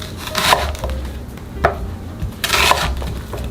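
A knife chops half of a large onion on a wooden board for a broccoli and crab stick stir-fry, with several crisp, loud, close thuds spaced irregularly and no talking.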